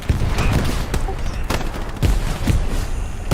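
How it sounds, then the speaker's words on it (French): Gunfire crackles through a fast Hell Let Loose firefight, with a machine gun among repeated bursts and thumps of shots near and far while players talk over the combat. "Attention, attention mitraillette, les gars, attention mitraillette."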